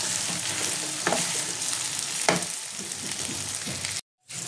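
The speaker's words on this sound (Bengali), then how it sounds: "এবার আমি আলুটা ফুলকপিটা দিয়ে একটুখানি নেড়ে নেব" Potato and cauliflower sizzling in hot oil in a pan while being stirred, a steady frying hiss punctuated by a couple of sharp scraping stirs, close and alone.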